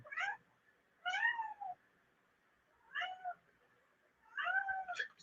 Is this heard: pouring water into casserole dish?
no